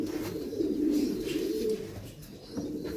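A racing pigeon coos softly nearby, a short low throaty call rising and falling over a few seconds, with no voices.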